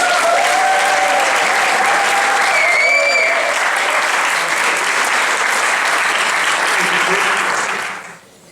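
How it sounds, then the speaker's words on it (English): Audience at a talk cheers, whoops and applauds a speaker's arrival, a dense, loud, steady wash of clapping with occasional shouts that fades out at the end. "Can we please give a huge whoop cheer and welcome to Paul Franczak."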